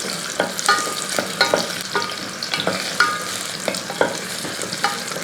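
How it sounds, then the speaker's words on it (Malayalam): Shallots frying in hot coconut oil are stirred in a pan for a Kerala tomato curry, with a steady sizzle under repeated scraping strokes of the spoon roughly every second. "ഉള്ളി ഒന്ന് ഇളക്കി കൊടുക്കും."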